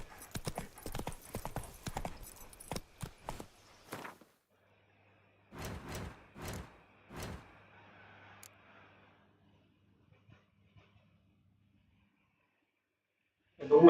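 Hoofbeats of the horse Roach trotting in The Witcher 3, a quick run of clip-clops up front, a pause, then a few more spaced hooves and a faint closing thud, with no talk.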